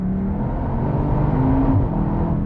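A 2021 Cupra Leon VZ2 hot hatch engine holds a steady, loud drone with no throttle input, in second gear as the automatic gearbox upshifts, with a brief pitch rise near the middle and no talk.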